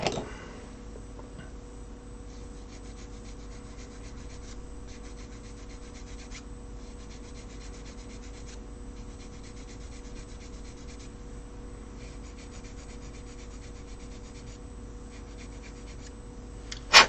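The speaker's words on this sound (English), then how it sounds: "file flat" A small file rasping a raised piece of a scale model flat at a modelling table, with soft repeated strokes in steady bursts, close and quiet with nobody speaking.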